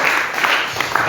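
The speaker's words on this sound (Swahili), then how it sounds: "Itapigiwa makofi amesema." Applause from a church congregation during a sermon, a dense, steady patter of many hands clapping at close range, running throughout with no clear pauses.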